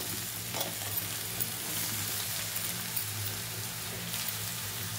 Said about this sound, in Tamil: இப்போ இந்த உருளைக்கிழங்கை நம்ம அப்படியே வெங்காயத்தோடு சேர்த்துடலாம்.